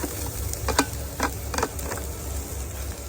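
Whole tomatoes cook on a slightly uneven griddle in a camper van, giving a quiet, steady sizzle broken by a few soft ticks and pops.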